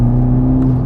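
A 2021 Toyota Supra 2.0T with an 8-speed automatic and active exhaust drones loudly and steadily in a brief, close burst of engine and exhaust noise.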